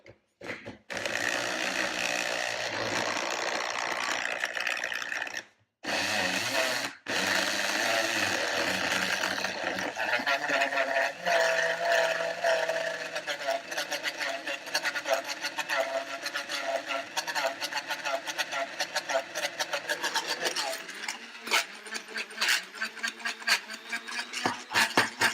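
A machine grinds peanuts into peanut butter, giving a loud, steady mechanical whir with a ratcheting texture that runs nearly the whole time, broken by two short pauses early on, and eases slightly in pitch toward the end.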